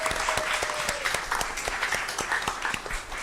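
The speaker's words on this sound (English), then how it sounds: "Give her a round of applause" An audience at a school district governing board meeting applauds a school principal, with steady, dense clapping filling the room throughout and no talk over it.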